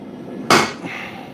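A single sharp hammer strike on a steel punch at a blacksmith's forge while forging a flatter, one loud crack followed by a short ringing decay.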